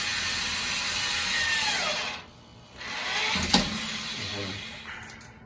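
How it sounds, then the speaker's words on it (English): A power drill whirs loudly, cuts out briefly, then spins up again with a sharp click and uneven grinding as it slows. "This drill stinks."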